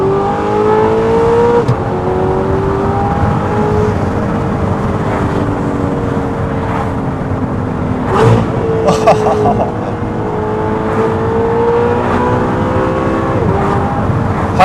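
An Audi R8 V10 with an aftermarket exhaust roars continuously from inside the car, engine note rising and falling through revs, with sharp crackles and blips around two downshifts midway.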